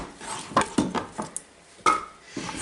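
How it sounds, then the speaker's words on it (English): A knife cuts butternut squash into even chunks on a board, giving several sharp, separate thuds and taps at an irregular pace, close and moderately loud, with no talking. "now I just cut it into chunks that are going to be about the same size as those peppers and onions"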